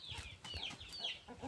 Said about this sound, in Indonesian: Nah, kandang ayam, yaitu peranakan Jeki.